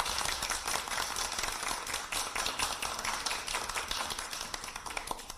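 Audience at a political capital-markets meeting gives vigorous applause, dense and continuous clapping that stays loud and even from start to finish with no voices on top.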